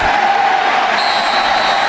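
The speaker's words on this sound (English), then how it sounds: "Listen to the crowd" A stadium crowd at a USC college football game roars and cheers in a loud, continuous wash of sound that swells slightly partway through.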